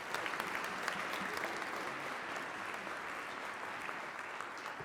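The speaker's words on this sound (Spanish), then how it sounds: "un gran aplauso para los panelistas" Sustained applause from a conference audience for the panelists at a social protection financing session, soft and distant, with a steady patter of many hands and no speech.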